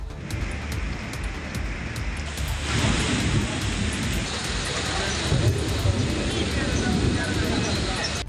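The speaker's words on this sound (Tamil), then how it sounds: "இடி மின்னலுடன் கனமழை பெய்தது" Heavy rain pours steadily during a thunderstorm, with a deep rumble of thunder swelling in partway through; the downpour is loud and continuous throughout with no break.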